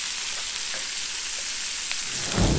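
Asparagus sautés in butter in a pan, a soft continuous sizzle with faint crackles, heard alone with no talk.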